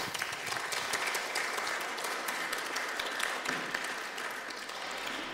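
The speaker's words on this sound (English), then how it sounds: "thank you for that warm applause" Warm applause from a lecture audience at Greyfriars, a steady, dense wash of many hands clapping that holds evenly for about five seconds, moderately loud and continuous with no voices over it.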